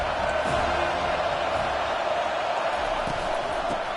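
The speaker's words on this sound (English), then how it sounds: "this crowd is tearing the lid off this place" A football stadium crowd roars continuously at a college game, a broad, sustained wash of cheering without a break.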